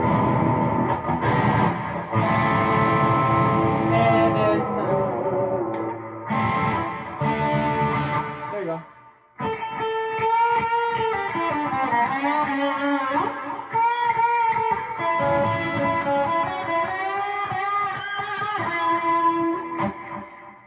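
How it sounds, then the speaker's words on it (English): Electric guitar played through a pedalboard with reverb and delay into a small Fender Rumble 15 bass amp, loud distorted chords and sustained notes with washing echoes and reverb tails, a brief pause midway, and a short spoken remark. "The reverb and delay are both very good on this."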